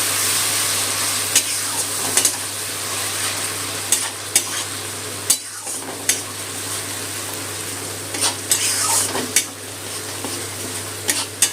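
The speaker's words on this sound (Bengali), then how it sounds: "মশলাটা একটু তেলে কষিয়ে নেব।" Ginger, onion, garlic and green chili paste fries in hot oil in a pan, giving a steady close sizzle broken by repeated sharp scraping clicks of a stirring spoon.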